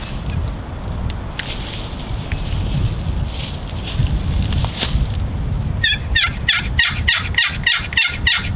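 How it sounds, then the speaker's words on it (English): A wild turkey gobbler in Connecticut spring woods on a windy day gobbles in a rapid rattling burst partway through, heard over steady gusting wind noise. "make some calls, see if something will gobble"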